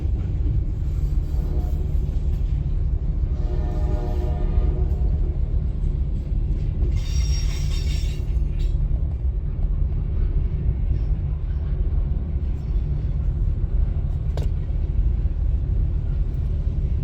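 A CSX freight train led by engine 329 passes near Arcade, Georgia, heading from Athens toward Jefferson, a steady loud low rumble of wheels on rails filling the whole stretch with brief higher squeals and hiss mid-way.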